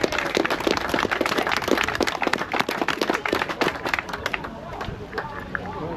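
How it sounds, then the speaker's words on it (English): Dense applause and clapping from a crowd gathered at an outdoor rally, rising strongly then thinning toward the end, with background chatter mixed in. "Give him a round of applause."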